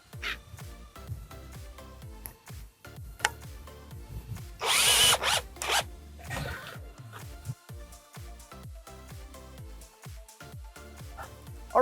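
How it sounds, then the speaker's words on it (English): A power drill drives a 1-inch drywall screw into a fence, a short, loud whirring burst of about a second, with clattering handling noises and a dog yelping faintly around it. "I go and put the second screw in."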